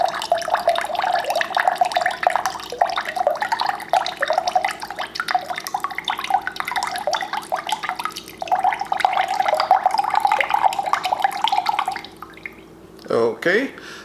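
Coconut water draining from a broken coconut into a container, a steady trickling, dripping stream that runs continuously for about twelve seconds before stopping, with a brief clatter at the end.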